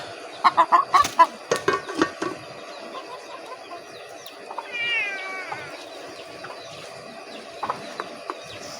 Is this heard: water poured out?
no